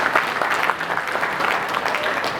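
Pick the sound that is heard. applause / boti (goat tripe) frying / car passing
applause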